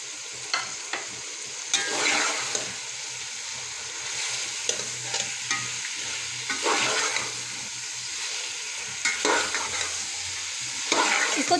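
Shredded cabbage frying in a pan for chicken fried rice, a steady sizzle under repeated spatula stirs and scrapes, close and fairly loud with no voices.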